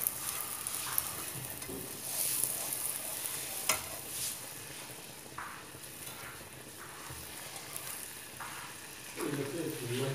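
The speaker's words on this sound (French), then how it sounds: "Là, dans une poêle, je vais beurrer ma poêle." Butter melting and sizzling in a frying pan as it is greased before crêpe batter goes in, a soft steady frying hiss with light stirring and scraping touches, close and moderate in level.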